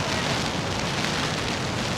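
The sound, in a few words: wind-driven rain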